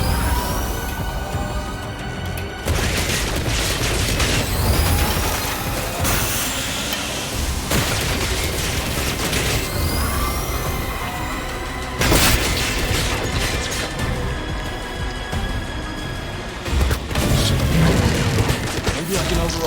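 Automated turrets firing in the 007 First Light video game, dense sustained gunfire bursts with heavy booming explosions and mechanical clatter, loud and continuous with brief gaps between volleys.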